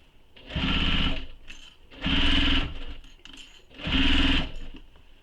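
A sewing machine stitching the lining of a satchel bag, three loud close runs of rapid needle stitching separated by short pauses with light handling clicks.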